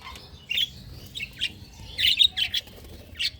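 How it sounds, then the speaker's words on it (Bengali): Small birds chirp in short bursts, several high tweets scattered across a quiet background, fairly close and clear. "এই যে পাখিটা"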